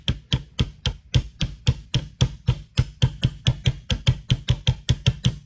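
A bearing being tapped onto a Talaria gearbox shaft through a socket bearing on the inner race: a steady series of about twenty sharp metallic knocks at roughly four per second, close and fairly loud.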